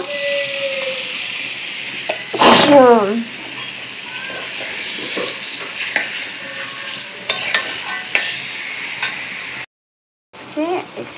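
Taro stirred and fried in a pan with dried fish, steady close sizzling throughout with a louder scraping stir burst and several lighter stirs, spoon clatter near the end after a brief gap.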